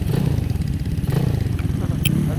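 A GY6-engined Honda Ruckus scooter being ridden in Tennessee gives a buzzing, pulsing engine note, loud and close, mixed with wind rush throughout.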